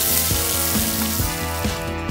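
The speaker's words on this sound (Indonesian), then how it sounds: "daging kelinci iki harus digoreng dulu sebentar" Rabbit meat frying in oil over low heat, a steady close sizzle with a busy crackling wash throughout, while a low tonal hum runs underneath with regular pulsing beats.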